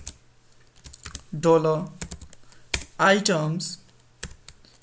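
Someone types PHP code into a Laravel Blade template on a computer keyboard, giving scattered sharp key clicks in quick bursts, close and clear, while someone speaks between the keystrokes.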